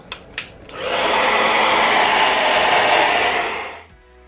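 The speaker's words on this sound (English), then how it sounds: "You hit it with the blow dryer on cool" A hair dryer on its cool setting whirs on steadily for about three seconds with a broad, even airy roar, preceded by a couple of faint clicks.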